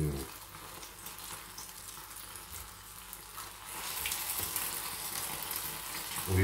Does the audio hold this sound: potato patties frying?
yes